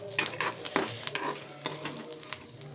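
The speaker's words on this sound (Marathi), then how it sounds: "याच्यामध्ये थोडंसं टाकून याला चांगलं तेलामध्ये भाजून घेते" Garlic cloves and peanuts roasting and sizzling in oil in a pan for stuffed brinjal masala, with steady crackle, clicking bursts and stirring scrapes close by, no talk.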